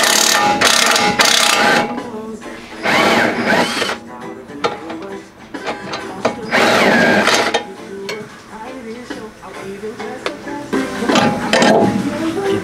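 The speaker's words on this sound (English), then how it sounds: "Good thing we got this half inch impact." A half-inch impact wrench works on a 17 mm bolt and 19 mm nut under a bagged car, firing loud rattling hammering bursts of a second or two, separated by pauses.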